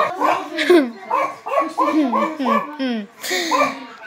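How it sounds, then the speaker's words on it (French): A dog barks repeatedly in quick, close bursts, with a voice and laughter mixed in around the barking. "désolé pour mon chien"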